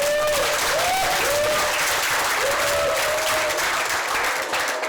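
A school audience applauds heartily to welcome the head of school onto the stage, a loud, continuous wall of clapping from many hands lasting the whole stretch.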